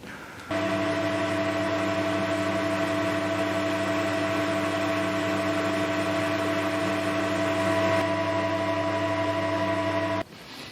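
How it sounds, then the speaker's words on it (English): Steady mechanical drone of a lathe parting off a model engine piston for a Lynx 15, with strong sustained harmonic tones and broadband hiss, constant and close, cutting out near the end. "better get on and part the piston off to length"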